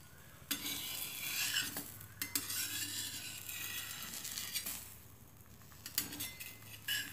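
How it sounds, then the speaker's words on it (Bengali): A jackfruit paratha fries on a tawa over a small gas burner, giving a faint, steady sizzle. Brief scraping and clinking of a spatula on the pan break in at intervals, and no one speaks. "এবার এটাকে আমি তাওয়াতে দিয়ে ভাজবো"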